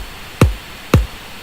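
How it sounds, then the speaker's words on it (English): Two punchy house-style kick drum hits land about half a second apart, each a loud, thumpy low boom with a quick pitch drop and short tail, like a basketball being struck, over a quiet background. "This sort of really sort of generic housey kick that it sounds like a basketball being hit."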